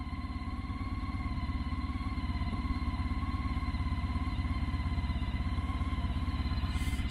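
A warmed-up 2005 Honda ST1300 with cut Ducati mufflers idles steadily, its low, even engine pulse and rhythmic exhaust throb running continuously and close by.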